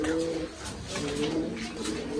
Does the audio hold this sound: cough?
no